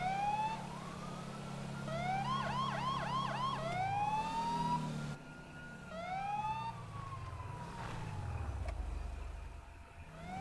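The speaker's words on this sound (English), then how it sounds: "You use lights and sirens at the intersections and in heavy traffic situations only." Emergency vehicle sirens wail and yelp through heavy traffic at an intersection, several overlapping tones sweeping up and down continuously while a low engine rumble runs beneath and falls away near the end.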